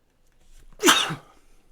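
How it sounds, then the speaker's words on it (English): A single loud human sneeze bursts out after a short faint inhale, close and isolated with no speech around it. "so there's a sneeze for you."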